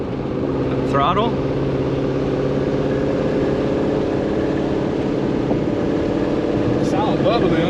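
A twin-turbo 2024 Mustang engine rumbles steadily at idle with a bubbly, uneven burble that stays close and loud throughout, while people talk over it.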